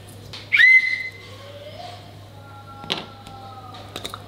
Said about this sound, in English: I have a whistle.